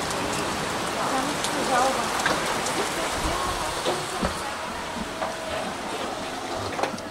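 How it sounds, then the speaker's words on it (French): Steady rainfall patters on a surface, a dense, continuous hiss with occasional heavier drops, and faint bird chirps in the background. "Je me demande quand il va s'arrêter de pleuvoir"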